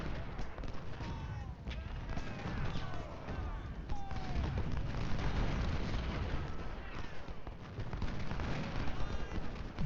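Distant rifle volleys and artillery booms crackle through a Civil War battle in the strategy game Ultimate General Civil War, with dense popping gunfire and occasional whistling shots layered into a steady, busy din.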